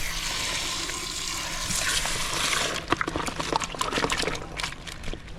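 Water pouring and trickling into a tub holding live yabbies, a steady close rush that gives way to irregular splashing and sloshing.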